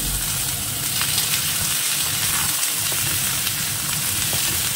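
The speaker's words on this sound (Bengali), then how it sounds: "এদিকে তো এটা ভাজা চলছে" A bottle gourd (lau) frying with dried red chillies in a frying pan, a loud, close, continuous sizzle with crackling bursts throughout and no voices.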